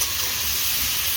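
Potatoes fry in a pan with salt and turmeric for a fish dish, giving a steady, close, bright sizzle with no voices.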